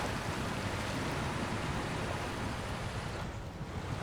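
A truck drives into water in the SnowRunner video game on an Azov 73210 mod, giving a dense, steady wash of splashing and churning water with a constant low rumble throughout.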